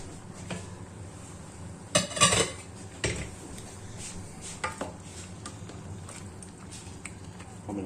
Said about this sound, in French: On mélange bien le tout.